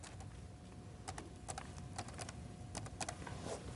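A title is typed on a computer keyboard, with quick irregular key clicks in small clusters, close and clear over a low steady background hum, with no voices.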